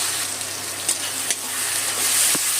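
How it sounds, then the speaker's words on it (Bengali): Ginger, garlic and green chili paste fries with onions in a pan for chicken biryani, a continuous close hiss of sizzling oil with a few faint stirring clicks. "আদা রসুন আর কাঁচা লঙ্কা বাটাটা দিয়ে দিলাম"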